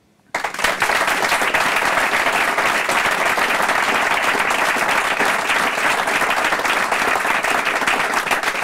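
A studio audience bursts into sudden, sustained applause after a brief quiet moment at a German political talk event, dense clapping holding steady and loud throughout.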